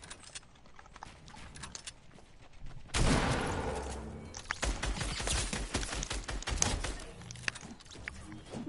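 Gunfire in a video game, bursts of rapid clattering shots and a loud rushing blast, fairly close, with scattered mechanical clicks between volleys.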